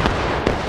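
A rapid cluster of loud, close musket shots rings out from a Civil War battle video game, with overlapping cracks and rolling reports that blend into a short burst of volley fire.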